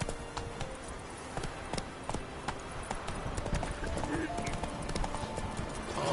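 Horse hooves clip-clop at a steady gallop in The Witcher 3, a continuous rhythmic drumming beneath game voices and background sound, with a brief whinny.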